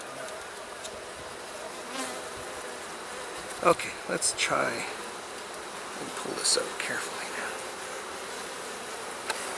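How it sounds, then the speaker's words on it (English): Honeybees buzzing around an open hive at dusk, a faint steady hum with a few louder buzzes as single bees fly close past, while a person speaks quietly during the hive inspection. "There's a bee coming up to sting me."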